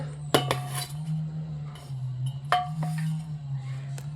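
Ridge gourd peel paste is tipped into a bowl, with a few sharp clinks of a utensil against the dish over a low steady hum.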